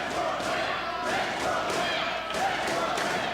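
Wrestling arena crowd cheering and roaring continuously, a dense loud wash of voices with swelling surges and a few thuds, without clear individual speech.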